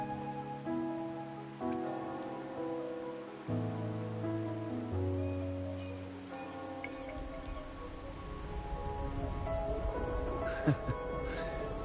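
Steady rain patters throughout in the video game Wuthering Waves, layered under sustained musical tones that shift in steps, with a few brighter droplet hits near the end.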